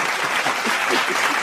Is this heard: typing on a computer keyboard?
no